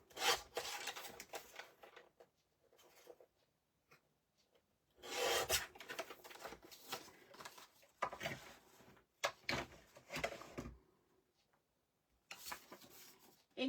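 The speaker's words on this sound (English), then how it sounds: "Inking the edges up again." Paper edges are inked for a handmade craft album, giving short bursts of dry scraping and rubbing strokes in separate runs with quiet gaps between them, close and soft.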